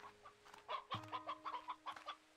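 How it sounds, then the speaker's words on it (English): Chickens cluck in the video game Slime Rancher 2, a series of short, rhythmic clucks and calls heard faintly over a quiet background hum. "Lots of chickens."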